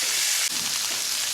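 Pork chops fry in a pan with a loud, continuous, close-up sizzle that fills the whole moment, broken only by a brief dip, with no talking.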